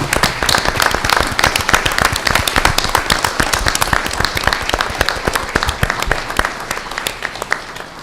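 Audience at a school board meeting giving principals a round of applause, dense sharp clapping from many hands in a room, strong and close at first and gradually thinning toward the end.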